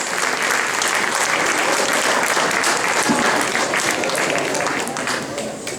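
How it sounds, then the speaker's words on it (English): Audience applause at a cultural music program, a dense steady wash of many hands clapping that fills the hall and tapers slightly near the end. "Please give them a big round of applause."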